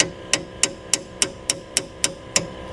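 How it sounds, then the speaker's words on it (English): A hammer taps a scored aluminum tube fender for a Jeep JL or Gladiator JT, eight crisp metallic strikes in an even, quick rhythm, close and loud with no talk. "You can tap it with a hammer,"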